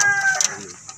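A caged labuyo wild junglefowl rooster from Agoncillo, Batangas calls in a brief, close burst of clucks and a tonal note. No voices are heard.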